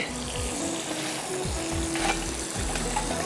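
Koftas sizzle steadily in hot oil in a home kitchen while a gravy is prepared, with a continuous close frying hiss and occasional soft pops throughout and no voices.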